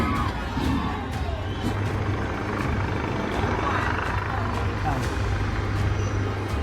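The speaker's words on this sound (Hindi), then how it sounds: "मंत्री के घर पर हेलीकॉप्टर उतारा गया" A helicopter descends onto a minister's house amid unrest in Kathmandu, Nepal, its steady rotor thrum constant underneath a noisy crowd and people talking.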